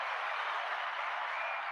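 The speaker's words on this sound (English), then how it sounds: "hand claps for Dave" Steady applause from hands clapping for a guest on a podcast, one dense unbroken wash of claps at moderate level that lasts the whole short moment with no talking.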